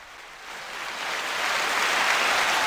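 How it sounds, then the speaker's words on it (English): A canned applause effect fired from a sound pad: a hissy wash of clapping that swells steadily louder over a few seconds, with no voices. "Round of applause, please"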